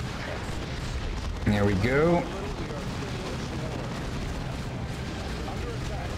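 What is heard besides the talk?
grenade explosions in the video game Dawn of War 2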